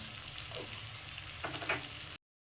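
Turmeric, chilli powder and coriander powder fry in hot oil in a pan for a rice ghonto, giving a steady, soft, close sizzle with a few stirring scrapes before it cuts off.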